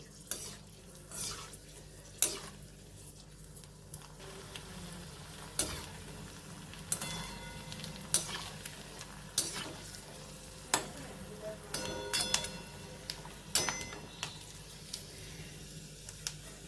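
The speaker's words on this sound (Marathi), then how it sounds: "आता आपण ते तळून बघूया तेल चांगलं गरम करून घ्यायचं" Colourful sun-dried rice sandge fryums frying in hot oil, a steady soft sizzle broken by repeated sharp clinks and stirring scrapes of a utensil against the pan, close up with no talking.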